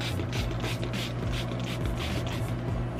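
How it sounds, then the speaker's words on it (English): Close, hissing bursts of hair spray from an aerosol can, several quick pulses in a row with a continuous rough hiss between them. "let me see if I spray both of them at the same time."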